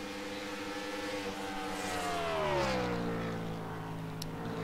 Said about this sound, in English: You can hear him coasting through turn 1 there, clutching it.